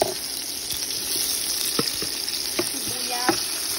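Tomatoes fry in a pan for fish soup, giving a steady close sizzle with a few light knocks and stirring clicks over the hiss.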